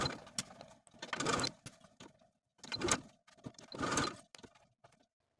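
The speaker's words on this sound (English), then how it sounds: "the sewing machine and sew the sleeve to the armhole with a 5/8 inch seam allowance" A home sewing machine stitches a sleeve into the armhole of a cottagecore wrap maxi dress with a 5/8 inch seam allowance, running in several short bursts separated by brief pauses.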